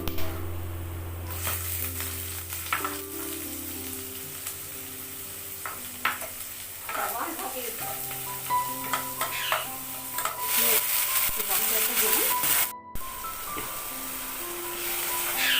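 Onion and whole spices, including cinnamon, frying in hot oil for a restaurant-style mutton curry, with steady close sizzling broken by repeated stirring scrapes and clinks of a spoon against the pan, no voices.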